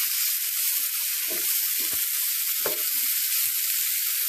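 Marinated chicken frying in a pan on the stove with very little oil, a bright steady hiss-sizzle punctuated by a few soft stirring knocks, no voices.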